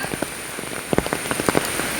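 Steady patter of rain falling on a surface, with scattered louder drops tapping through a continuous wet hiss; no voices.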